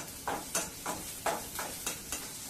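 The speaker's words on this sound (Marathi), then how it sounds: "त्याच्यामध्ये आपण थोडीशी उडदाची डाळ टाकूया, ती छानशी परतून घेऊया" Onion frying with urad dal in a pan, stirred in about seven evenly spaced scraping strokes over a soft, quiet sizzle, close by and without talk.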